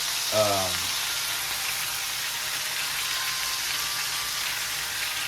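A burger fries in hot popping grease, giving a steady dense sizzle and crackle throughout, with a brief voice-like sound near the start.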